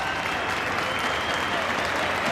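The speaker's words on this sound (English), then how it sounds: "it's a round of applause, a rousing reception for Danny Allsop." A stadium crowd at an A-League football match between Melbourne Victory and Newcastle Jets applauds a substitution, a dense, steady wash of clapping from the stands with no gaps.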